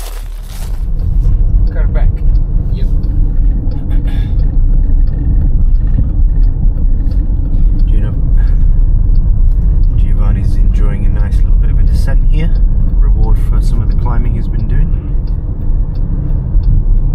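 A car comes up from behind cyclists during a road bike race, its engine and tyre rumble steady and fairly loud throughout, with riders talking over it.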